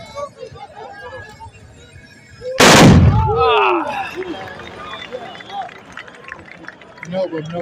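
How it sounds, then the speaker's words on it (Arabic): Tbourida horsemen fire their gunpowder muskets together in one sudden, loud, booming volley at a fantasia competition in Chemaia. The blast is followed by crowd noise and voices. "الضربة اللي أمامنا الآن هي ضربة المقدم الغوثي النقاش، الفرصة الأولى من البارود."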